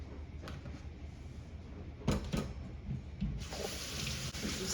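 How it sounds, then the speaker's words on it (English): Basmati rice, about 180 grams, is rinsed under running water in a kitchen: a soft, steady stream with a few sharper splashes and clatters, fairly quiet and close. "I'm going to rinse the rice until the water runs clear."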